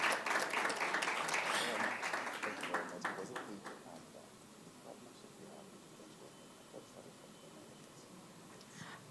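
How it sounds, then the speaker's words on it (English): Audience at the Nigerian International Film Summit gives the panelists a round of applause, dense clapping that starts strong and tapers over a few seconds into a quiet room with scattered last claps. "Can we please give them another round of applause?"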